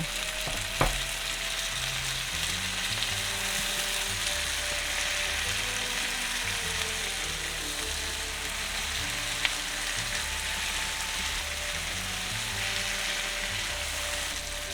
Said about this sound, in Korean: 파슴이 죽기 전에 토마토를 넣고 같이 볶아주세요